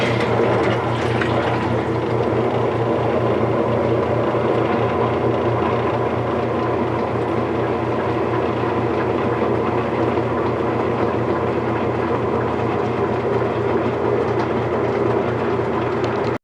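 A Whirlpool direct-drive washing machine, just repaired with a new motor coupler, runs its spin cycle with a steady loud rumble and rhythmic thumping churn, continuous and close with no talk.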